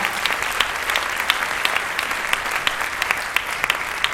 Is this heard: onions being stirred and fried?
no